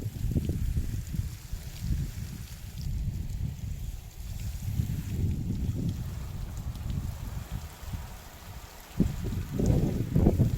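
Strong wind roars and buffets the microphone in heavy low rumbling gusts around papaya trees, steady throughout with a sharper surge near the end.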